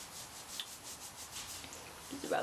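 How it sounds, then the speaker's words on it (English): Hands rubbing a product into the scalp, a soft, steady close-up friction sound with gentle rhythmic strokes, quiet and alone. "Just rub this into your scalp."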